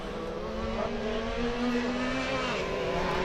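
A side-by-side off-road race car runs hard at a championship race, its engine a continuous strong drone with rising, revving pitch, heard from a distance with no talk over it.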